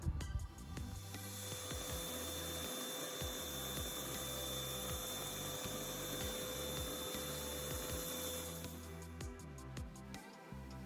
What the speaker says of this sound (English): we're going to be using this Wagner PowerTex sprayer machine